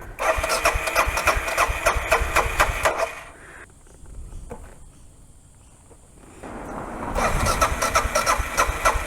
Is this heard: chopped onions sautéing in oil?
no